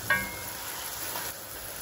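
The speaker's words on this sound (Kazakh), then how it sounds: "Осыларды әбден бірінші қуырып аламын." Meat frying with salt, black pepper and bay leaf in a pan, giving a faint, steady sizzle throughout with a slight clatter near the start.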